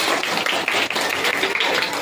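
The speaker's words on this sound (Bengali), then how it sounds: "হাততালি" An audience claps continuously at a school welcoming ceremony in Bagnan, a dense steady patter of many hands filling the room without pause.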